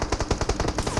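Rapid automatic gunfire behind the player in the video game PUBG Mobile: a steady, fast burst of about a dozen sharp shots across one second, loud and unbroken.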